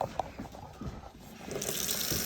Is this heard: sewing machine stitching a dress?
no